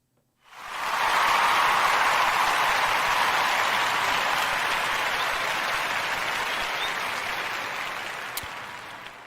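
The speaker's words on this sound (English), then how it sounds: "Everybody in the audience, I'm going to give you one big giant clap." A live audience breaks into one big sustained round of clapping, a dense, even roar of hands that holds steady for several seconds and then slowly tapers off toward the end.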